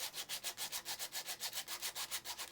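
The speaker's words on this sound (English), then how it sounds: "It's a nice thing about PET G and 80 grit sandpaper, is that you can clean up the entire thing" 80 grit sandpaper scrubbing a 3D-printed PETG part in quick, even back-and-forth strokes, a close, steady rhythmic rasp of about eight strokes per second with no talking.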